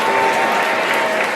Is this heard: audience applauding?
yes